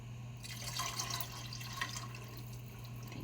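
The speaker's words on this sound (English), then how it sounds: "We add the milk, and then we're going to pour in 1 cup of milk." Milk poured into a pot while making gnocchi chicken pot pie gives a steady, soft liquid trickle over a low electrical hum, with no talking.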